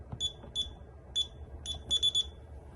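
An alarm system keypad sounding repeated sharp electronic beeps, single and doubled chirps at an irregular pace, fairly quiet against a low background hum.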